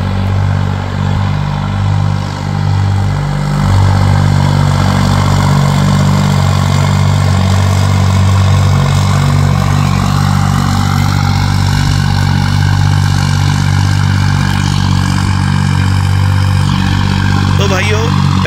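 A modified tractor engine idles close by, a loud, steady low-pitched throb that holds evenly throughout.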